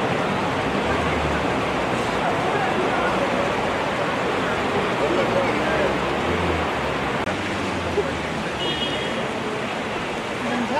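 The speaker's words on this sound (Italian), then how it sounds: "No, è un fiume di là." A river flows with a steady, broad rushing roar of water that stays loud and constant throughout, with a voice talking faintly beneath it.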